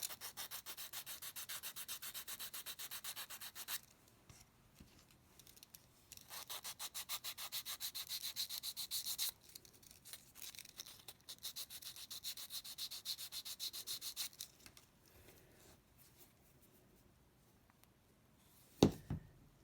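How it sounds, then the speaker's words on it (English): A small wooden piece of a Loadstar II model rocket is lightly sanded, making close, rhythmic rubbing strokes in long bursts with short pauses, then a single sharp knock near the end. "Take one of these wooden pieces. See, actually I forgot there's this little nub here. So just lightly sand it."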